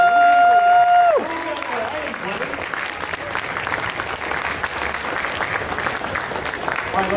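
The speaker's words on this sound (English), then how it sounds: "let me get a huge round of applause for Techno Ace." An audience at a stage event breaks into sustained, loud applause that fills the room, following a brief tonal musical sting at the start; a voice speaks briefly near the end.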